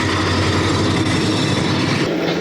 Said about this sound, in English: There's another eastbound coming.